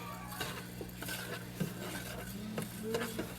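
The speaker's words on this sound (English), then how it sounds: "Give it a good stir." Spoon stirring rice in a cooking pot, with a steady scraping and clinking of utensil against the pan and a light sizzle underneath, close and continuous, with no voices.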